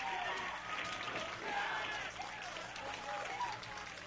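A crowd cheers and applauds as the first thumbnail images arrive from the Mars Curiosity rover landing, a dense, steady roar of clapping and voices held at an even level throughout.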